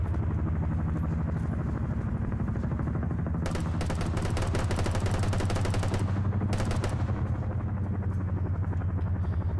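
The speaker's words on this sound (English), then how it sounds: "And he's now firing at the Chinook." Gunfire at a Chinook helicopter in a multiplayer military video game: bursts of rapid automatic shots crackle over the steady, droning thrum of rotors, loud and close, then stop before a brief final burst.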